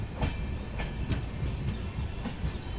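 Passenger train 17423 Tirupati–Chikkamagaluru rolls along with a continuous rumble and regular clickety-clack of wheels over rail joints, heard from inside the coach with no talk.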